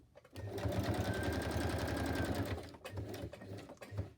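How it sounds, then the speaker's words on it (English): A sewing machine back stitches through a paper envelope, a loud steady run of about two seconds followed by short bursts of stitching, faint and close. "And I'm going to back stitch."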